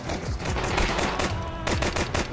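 Rapid automatic and pistol gunfire in Counter-Strike 2, including a Glock, cracks in dense overlapping bursts throughout, loud and continuous with no clear pauses.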